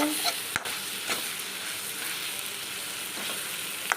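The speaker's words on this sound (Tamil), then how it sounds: "இந்த மாதிரி நல்லா வதக்கணும் பாருங்கள் கை விடாமல் நல்லா" Masala for a spicy fish curry sautés in a pan, a loud, dense sizzle running continuously with a few scraping knocks from constant stirring.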